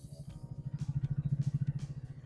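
A 2025 Triumph Speed T4 motorcycle pulling in third gear, its engine giving a steady, pulsing low thrum that rises slightly and then eases, heard close and alone.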